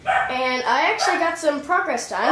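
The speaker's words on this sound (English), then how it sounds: "Sorry, that's my dog." A pet dog barks in short yipping bursts that overlap someone talking nearby, the yelps rising and falling in pitch across a couple of seconds.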